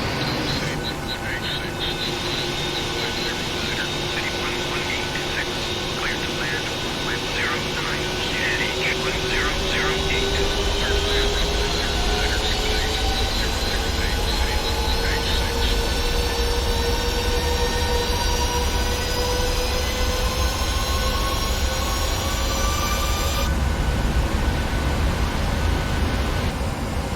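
PMDG 737-800 jet engines spool up for takeoff at Schiphol in the Prepar3D flight simulator, with a rising whine climbing steadily over a loud continuous roar as thrust builds, then steadying near the end.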